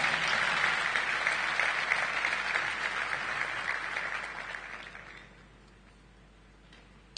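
Audience applause at a talk on the ethics of care, a dense crowd clapping loudly and steadily, then thinning and fading to near silence over several seconds.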